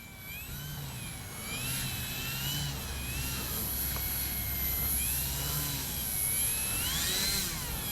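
A 1700 mm FMS PA-18 Super Cub radio-controlled plane flying over a field, its small electric motor whining steadily with rising and falling pitch as it passes, moderately loud and continuous, with faint wind and field noise beneath.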